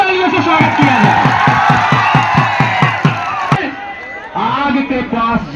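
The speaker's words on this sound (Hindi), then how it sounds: "एक बार जोरदार तालियों से स्वागत किया जाए" Wrestling crowd at an India vs Pakistan bout erupting in cheers, whoops and shouts, with rhythmic chopping claps in the first half, then a looser burst of cheering near the end.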